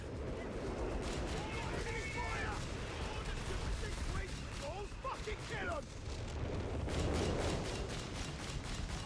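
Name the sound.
artillery bombardment in Company of Heroes 3 video game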